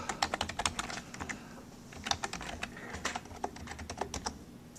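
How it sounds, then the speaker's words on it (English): Close, quick typing on a computer keyboard as a password goes in, a steady patter of crisp key clicks with a few brief pauses and no talk. "So I log in and I type in the wrong password."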